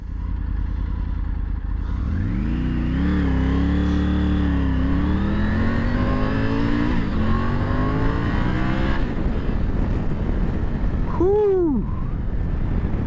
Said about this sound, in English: This 88cc triple has got some good punch.